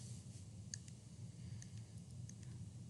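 Keys pressed on a graphing calculator, a few soft scattered clicks, faint and close, over a quiet background hum.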